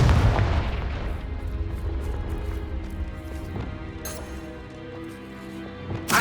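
The Confringo fire spell explodes in the video game Hogwarts Legacy. A loud, booming blast opens the sound and rumbles away, and a sharper burst cracks out near the end.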